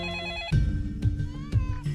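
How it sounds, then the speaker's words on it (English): A telephone ringing in a home, repeated electronic rings in a steady rhythm about every half second, clear and close. "Just then, the phone rings."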